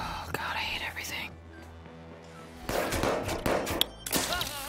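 Enemy gunfire in the video game Watch Dogs 2, a burst of sharp shots cutting in over busy game sound, then a lull before more clattering fire returns; a person talks over parts of it.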